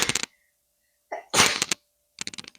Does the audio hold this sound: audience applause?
no